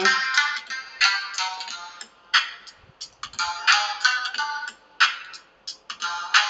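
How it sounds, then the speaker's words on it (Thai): A Japanese shamisen plays a bright, twangy melody of short repeated notes and phrases, close and clear, with no voices. "เป็น เครื่องดนตรีชนิดหนึ่งของญี่ปุ่นนะ เรียกว่า ชามิเซ็ง"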